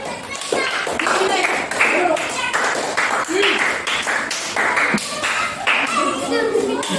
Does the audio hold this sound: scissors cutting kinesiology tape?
no